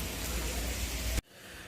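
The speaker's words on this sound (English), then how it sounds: "like really strong rain now." Heavy rain pours steadily over the pool at Plaza de España as a dense, loud, close wash of noise, then cuts off abruptly near the end.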